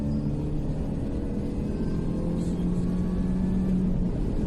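Mini Cooper S R53 accelerating hard through a 30 to 70 mph run, a steady loud in-cabin engine drone with rising tone and a gear change partway through, road rumble underneath.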